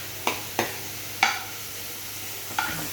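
A spoon stirs a spiny gourd and fish roe curry with poppy seed paste in a pan, making four distinct scraping knocks spaced irregularly over a soft, constant background sizzle, with no talking.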